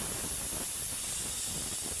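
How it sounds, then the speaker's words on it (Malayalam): A pressure cooker on a home kitchen stove vents steam in a loud, steady hiss that holds for the whole stretch with no talking. "നമ്മുടെ കുക്കർ വിസിൽ വന്നിട്ട്"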